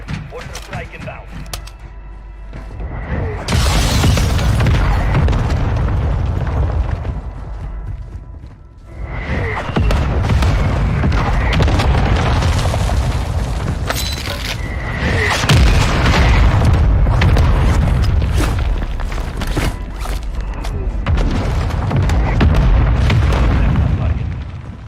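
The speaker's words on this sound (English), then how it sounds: "Requesting mortar strike. Copy your mark. Mortar strike inbound." Mortar strike explosions in Call of Duty Resurgence land as a string of loud, heavy booms and rumbling blasts over about twenty seconds, with crackling debris between the impacts.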